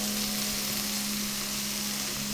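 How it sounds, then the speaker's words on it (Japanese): Onions frying in a pan for a Kerala chicken curry, a dense continuous sizzle with a steady hum underneath, close and loud. "じゃあここから玉ねぎ飴色になるまで炒めていきます"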